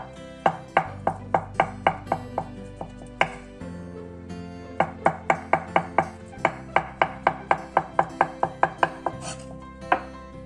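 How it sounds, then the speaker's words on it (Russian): A knife chops boiled eggs into thin rounds on a board for a salad, with a steady series of crisp, sharp taps close by. There is a short pause partway through, then the rhythmic cutting resumes. No one speaks. "Отварные яйца тоже нарежем тонкими пластинами"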